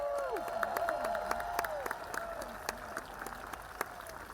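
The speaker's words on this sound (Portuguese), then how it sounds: "Uma multidão aplaudiu a chegada do caixão." A crowd outside Buckingham Palace in London applauding the arrival of Queen Elizabeth II's coffin, fairly distant scattered clapping with sharp individual claps over a low crowd murmur and tonal sounds running through.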